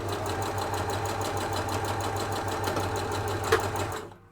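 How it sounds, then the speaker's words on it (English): A sewing machine stitches ribbon in a rapid, steady mechanical whir with fine repetitive ticking, close and continuous, ending with a brief click as it stops. "Just speed sewing."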